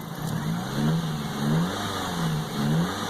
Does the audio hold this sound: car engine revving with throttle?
yes